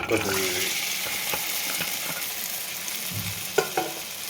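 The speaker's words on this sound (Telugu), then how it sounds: "ఇప్పుడు ఇందులో బెండకాయ వేసుకోవాలి." Okra pieces frying in oil and being stirred in a pan, a close sizzle with scraping stirs and a couple of sharp knocks of the utensil near the end, no talking.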